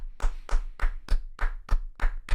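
Slow, deliberate hand clapping: eight sharp claps at a steady, even rhythm, close and fairly loud with nothing else behind them.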